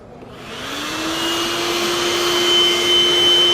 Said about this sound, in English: You've used ADS hose, and it makes a whistling sound.